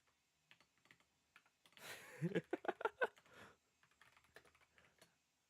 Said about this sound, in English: Kind of just typing a chat there.